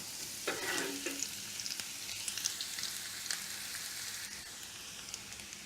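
Shallot sweats in a pan with a soft, steady sizzle and a few scraping stirs early on, faint and close, with no voices.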